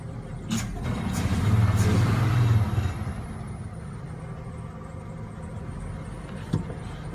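A Ford F150 truck engine, freshly fitted with a repaired idle air control valve, swells through a brief rev before settling back into a steady, even idle, heard close with a few clicks.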